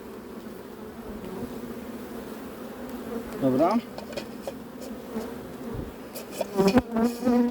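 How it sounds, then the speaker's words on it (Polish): Honeybees buzz in a steady drone while a hive is sampled for a Varroa mite check, with louder close passes of individual bees near the end and a brief spoken word. "Pobieram pszczółki"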